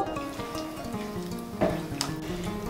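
Hot water being stirred into a sizzling pan of vegetarian curry, a steady frying crackle with a scraping stir and a few sharper clinks, close and continuous.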